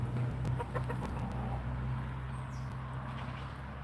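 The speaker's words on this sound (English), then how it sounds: "This is the rooster from the other coop." A nearly mature young rooster from a farm coop clucks in soft, intermittent bursts, close by over a steady low hum of background noise, with no talking.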